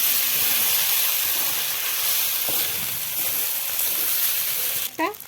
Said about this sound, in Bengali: এখন সমস্ত মশলা দিয়ে ভালো করে চালটাকে একটু কষিয়ে নিলাম